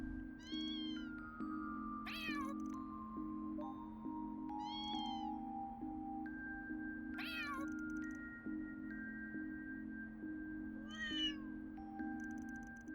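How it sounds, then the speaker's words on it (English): An adult cat and a kitten in Trails Through Daybreak II meow repeatedly in short, rising calls, spaced a few seconds apart over a steady humming game music bed. "Looks like some fat cat's approaching a toilet with a kitten."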